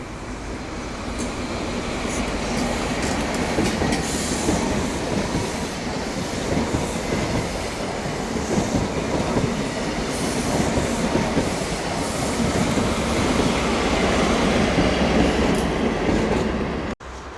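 Trains 43062 and 43013, a diesel power-car pair, working 1Q31 through Middlesbrough, with a steady loud rumble of passing stock, wheel noise and some squeal throughout, cutting off abruptly at the end.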